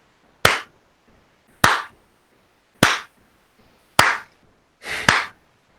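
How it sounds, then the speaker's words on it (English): Five muffled claps of gloved hands land at a slow, even pace, each a soft thud with a short decay, alone in an otherwise quiet room. "you hear the muffled clap of gloved hands"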